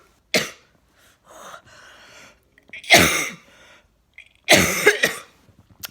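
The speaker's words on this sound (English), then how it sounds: "So you just have to deal with the coughing." Three sharp, loud coughs spaced a couple of seconds apart, close by, with quieter breathing and throat sounds in between.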